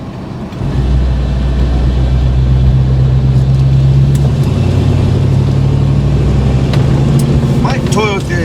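A Chevrolet Blazer with a sticky throttle cable is being driven, its engine a steady low drone with road noise throughout, while a voice talks over it.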